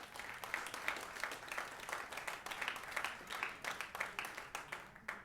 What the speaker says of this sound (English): If you believe that, clap your hands.